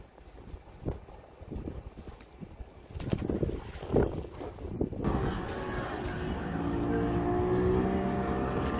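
A motorboat engine drones steadily at a sea fishing spot, growing louder and more continuous in the second half, with wind and splashy noise around it.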